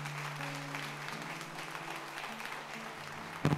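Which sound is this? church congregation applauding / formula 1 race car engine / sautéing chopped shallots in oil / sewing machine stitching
church congregation applauding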